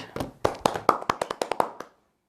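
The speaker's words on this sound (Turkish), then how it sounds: "Alkış." Hand clapping: about a dozen sharp, close claps in a quick, slightly uneven rhythm, heard on their own before stopping abruptly.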